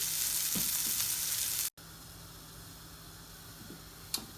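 An oat and lentil patty fries in a non-stick pan, giving a steady close sizzle with small crackles, broken by a brief silent cut and then a quieter hiss with a few light taps, no talking.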